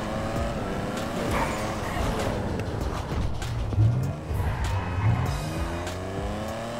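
A BMW M8 Competition driven in GTA 5, its engine note rising and shifting through gears with tire noise and passing traffic, steady and fairly loud throughout.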